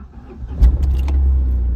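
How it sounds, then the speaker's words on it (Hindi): A Tata Nano car that has sat unused for days starts with a turn of the key: a brief cranking burst settles into a steady low engine idle, close by and alone. "फर्स्ट क्लास स्टार्ट होती है गाड़ी एकदम एक नंबर। मतलब जैसे ही चाबी घूमती है ना तो गाड़ी मस्त स्टार्ट हो जाती है।"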